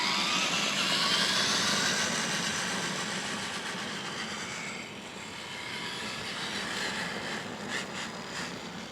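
A steady whining drivetrain hum from a rebuilt Tamiya TXT1 RC truck gearbox runs continuously, loud at first then easing slightly, with a constant mechanical buzz and no voices.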